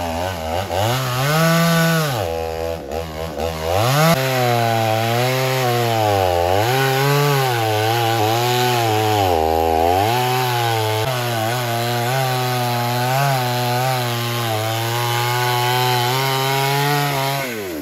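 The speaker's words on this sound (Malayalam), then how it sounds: "നമ്മൾ തെങ്ങൊക്കെ മുറിച്ച് കഴിഞ്ഞു" A chainsaw cutting down a coconut tree roars loud and close throughout, its engine pitch rising and falling repeatedly as the blade bites into the trunk and eases off.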